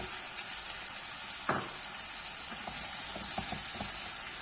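Brussels sprouts sautéing in a hot pan give a steady, loud sizzle and hiss, with a few soft clicks and stirs from a utensil near the start and later on, and no voices.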